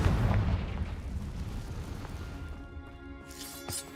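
Heavy booming blast from a Confringo spell in Hogwarts Legacy that fades into a rumbling tail, followed by a short sharp burst near the end, loud and close.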